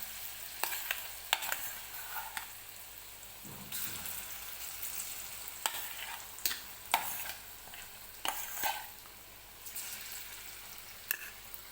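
Coarsely ground moong dal, cumin and fennel seeds frying in hot oil for kachori filling, a steady soft sizzle broken by repeated sharp scraping stirs of a spoon against the pan.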